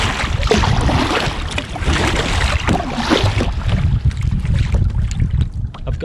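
A kayak being paddled out on a calm sea for wreck fishing, rhythmic paddle splashes and water swishing close by under heavy wind buffeting on the microphone.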